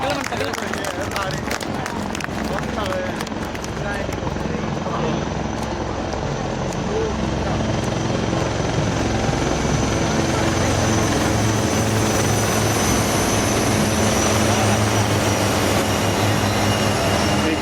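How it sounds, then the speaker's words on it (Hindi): Dhruv and Rudra military helicopters pass over an army day parade, a loud continuous rotor thrum and whine filling the air while a commentator speaks over it. "समुद्र तल से लेकर दुनिया के सबसे ऊंचे रण क्षेत्र सियाचिन तक हर मिशन का हिस्सा बन रहे ध्रुव एवं रुद्रा हेलीकॉप्टर"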